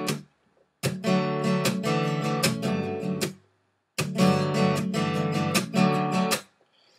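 Palm-slapped guitar strings make rhythmic percussive clicking bursts, two clear phrases of quick repeated hits with ringing string tones, separated by a short pause.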